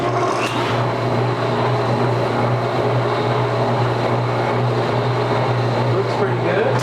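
A homemade almond centrifuge motor running with a steady droning hum and a strong low tone, loud and continuous at close range.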